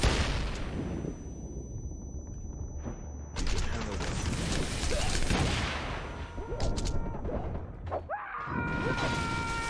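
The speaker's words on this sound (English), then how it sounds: "Oh god, there's the grenade." Grenade explosion in the action video game Wanted: Dead, loud booming blasts and rapid gunfire-like bursts over a constant roar of combat sound, with a sharp swelling burst near the end.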